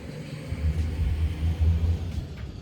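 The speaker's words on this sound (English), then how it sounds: "That truck is way too loud." A loud truck rumbles past nearby with a deep, steady low engine roar swelling and easing over a few seconds, no talk over it.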